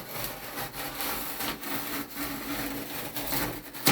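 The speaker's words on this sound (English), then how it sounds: "I just give one score all the way down, try and stay on the line" A utility knife draws one continuous score down a plasterboard panel along a marked line during a workshop renovation, giving a close, steady scraping rasp that runs throughout with slight swells and a sharper scrape at the very end.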